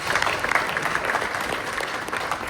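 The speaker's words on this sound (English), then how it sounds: "So if we can just give them a round of applause." Audience at a tourism presentation in Guyana applauding a team, dense continuous clapping from a crowd filling the whole moment.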